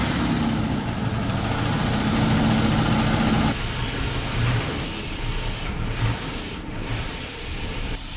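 A 1978 Cadillac DeVille big-block engine, left sitting for over 15 years, idles with a lope, a loud, steady, close rumble running unbroken for about eight seconds with no talking.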